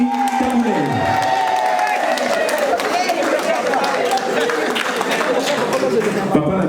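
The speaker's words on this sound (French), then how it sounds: "Je vous demande d'applaudir très très fort pour Madame Mélodie Taboulay." A crowd at a Paris community gathering claps and cheers for an introduced guest, the dense applause and shouts steady throughout with chatter mixed in.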